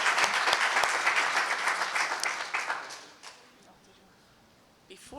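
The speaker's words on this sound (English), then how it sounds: "Another maybe round of applause for the Congressman." A forum audience applauds a congressman, with thick, loud clapping for about three seconds that then thins out and fades to a quiet room, and a few faint sounds near the end.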